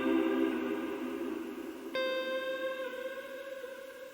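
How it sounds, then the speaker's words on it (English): A sustained, shimmering ambient reverb from a Strymon NightSky pedal holds layered tones, then a new chord swells in with a sharp onset and rings on, its pitch gently drifting under ramp-shaped modulation. "Here you'll hear the ramp waveform as it rises and then descends abruptly."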